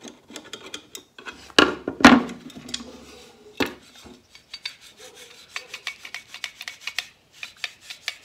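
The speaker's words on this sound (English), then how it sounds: "As I'm filing off a little bit of this nut, I am keeping away from the threaded part" A metal file rasps across a nut on a drawer slide in short, uneven strokes, close and fairly loud. A few sharper knocks and rubs come in between, and nobody speaks.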